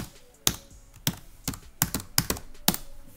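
Keys on a computer keyboard tapped in short bursts while a password is entered at a Linux terminal, several sharp separate clicks at an uneven pace, close and clear with no talking.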